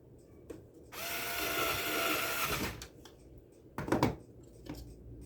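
A power screwdriver drives the top screw into a window air conditioner's panel, a close whirring run of about two seconds followed by a short second burst.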